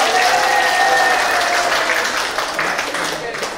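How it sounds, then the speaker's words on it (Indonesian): Audience applause during a church women's Bible quiz competition, a loud dense burst of clapping that slowly thins toward the end, with voices mixed in. "beri semangat dulu tepuk tangan"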